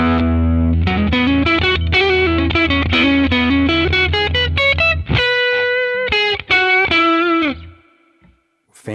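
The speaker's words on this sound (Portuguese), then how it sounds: "Ó, delay, ó, deluxe spring. Provavelmente é o reverb do Fender, né?" A distorted electric guitar plays a rapid run of notes and then sustained chords through the Tonocracy plugin's deluxe spring reverb, a Fender-style spring. The sound is loud and close, and the reverb tail fades to near silence at the end.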